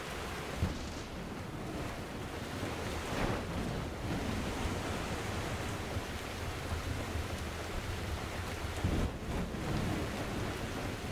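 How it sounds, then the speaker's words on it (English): A thunderstorm in the game Metro Exodus brings a continuous roar of heavy rain with low rumbles of thunder rolling through at intervals, loud and close, with nobody speaking. "A freak lightning storm, huh?"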